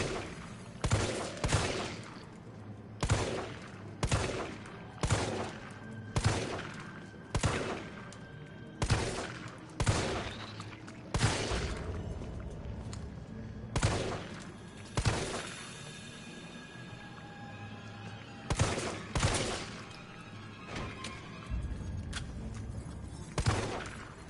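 Gunfire rings out in Resident Evil 3 as a parasite is shot, with loud, sharp reports repeating in a steady rhythm about once a second, each with a short ringing tail and occasional clattering impacts.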